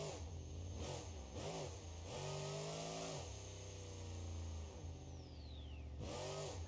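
A Merlin engine with both a supercharger and turbochargers revs hard in a BeamNG.Drive monster truck, a loud throaty roar that rises and falls in several pulls with a steady high whine of blowers above it. No one talks.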